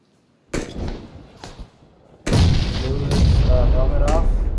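Grenade blasts and gunfire in the PUBG video game, a sharp boom followed by a second heavy burst that rolls into sustained loud combat noise, with voices talking over it.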